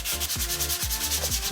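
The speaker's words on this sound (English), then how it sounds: "it's now time to actually get on to sanding this body filler on the bumper" Steady, rhythmic abrasive rubbing of sandpaper over body filler on a car bumper, back-and-forth strokes repeating about every half second, close and continuous.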